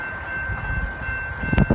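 A Brightline train rumbles past with a steady low roar and a sustained high whine, growing louder and clattering toward the end.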